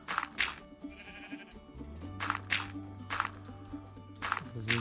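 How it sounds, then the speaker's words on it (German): Sheep bleating in Minecraft, several loud nasal bleats in irregular bursts close by, over soft background music. "Uah, Schaf, du hast mich erschreckt."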